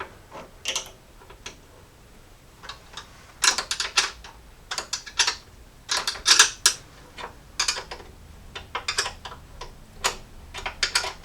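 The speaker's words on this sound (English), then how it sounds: "Then we'll just feed in our bolts and bolt this down." Bolts fed in and ratcheted down on a bracket of a Jeep Cherokee XJ, with quick clicking ratchet bursts and metallic ticks in irregular clusters, close and moderately loud.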